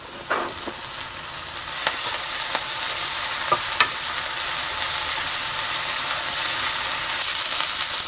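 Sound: napa cabbage frying in pan for Chinese oyster soup

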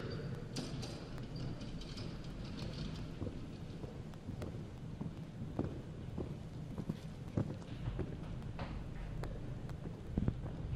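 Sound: horse hooves on ground during show jumping round

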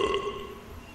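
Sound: character burping in the video game DreadOut

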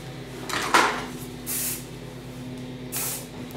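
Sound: hairspray spraying on hair

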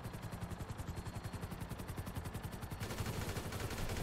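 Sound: gunfire in the video game GTA V

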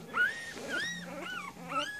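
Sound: puppy growling and whimpering

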